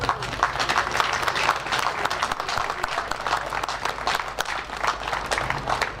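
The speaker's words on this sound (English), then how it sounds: "This is the biggest round of applause." Sustained applause from a crowd at an outdoor classic and American car show, steady dense clapping throughout with a faint low rumble beneath.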